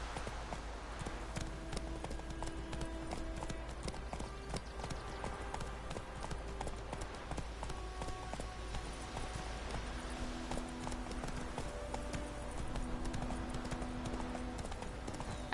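Horse hooves clip-clopping in The Witcher 3: Wild Hunt, a steady quiet trotting rhythm with faint background game music tones.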